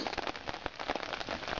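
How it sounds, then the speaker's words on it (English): Rain falls outdoors in woodland with birch and cedar, a faint patter of scattered drops tapping on surfaces in an irregular, crackly rhythm. "It's been raining for the last couple days"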